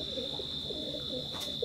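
Imported Teddy pigeons give soft, close cooing in a short, steady run over a constant high background hum.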